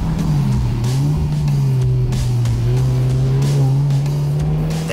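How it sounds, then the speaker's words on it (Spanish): Cupra Ateca SUV in Cupra mode, its turbocharged engine droning steadily through a raspy quad exhaust, loud and continuous with slight pitch rises and falls as it pulls along. "el tono del sistema de escape cuádruple es más ronco"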